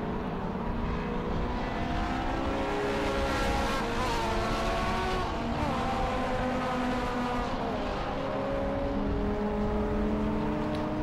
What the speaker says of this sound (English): Behind them, the older Civic, the Castrol livery car there, that's Phil Wright.